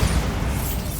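A Bombarda spell explosion from the Hogwarts Legacy video game lands as a loud, close booming burst with heavy low rumble that holds through the whole brief moment.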